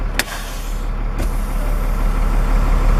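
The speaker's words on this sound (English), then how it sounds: "My truck is put in gear. I'm going to give it a slight tug." A tractor-trailer truck in gear tugs against its set trailer parking brakes during a pre-trip inspection, a steady low engine rumble with two short sharp hiss-like bursts early on, the drone building slightly louder toward the end.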